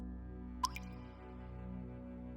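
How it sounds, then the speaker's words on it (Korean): A single bright water drop plinks once, followed by a softer second drip, over a low steady hum in a quiet room, part of a Japanese ghost story told at a house entrance. "분명한 물방울 떨어지는 소리가 들렸다는 것이다."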